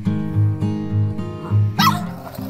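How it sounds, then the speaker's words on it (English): Farm dogs on an Amish farm yapping at arriving visitors, a quick run of several high, sharp barks and yips close by, repeated in an uneven rhythm. "some of them come right up to you and yap at your ankles"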